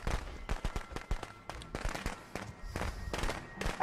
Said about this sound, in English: I accidentally dropped firecrackers